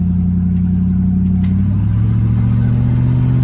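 A 1989 Range Rover Classic engine with a repaired exhaust revs loud and close, its steady low rumble sliding down in pitch as the revs drop, with no voices.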